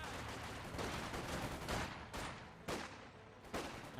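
Constant rumbling mortar barrage and rattling gunfire from the World War II strategy game Company of Heroes 2, with a few sharper explosive hits rising over the steady din.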